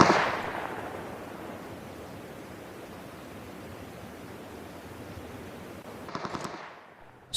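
Sustained broadband crackle of continuous gunfire from a scoped weapon in PUBG Mobile, loud and steady for several seconds, then a brief burst of sharper shots near the end.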